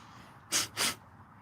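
A sneeze close by, two sharp hissing bursts of breath in quick succession, against a quiet background.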